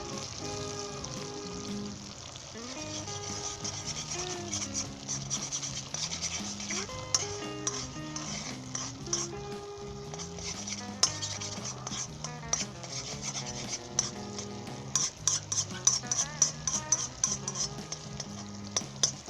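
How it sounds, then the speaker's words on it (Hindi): Egg scrambles in a pan over medium heat with brisk, repeated spatula stirring and scraping and a light sizzle, under continuous background music. "अब अच्छे तरीके से इसे मिक्स कर लें, स्टर कर लें दरमियानी आंच के ऊपर।"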